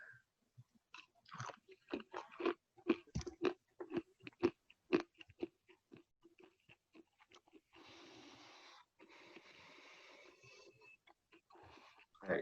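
Close, wet crunching and chewing of a handful of peanuts in irregular bursts, with a stretch of steady noisy rustling partway through and occasional breaths.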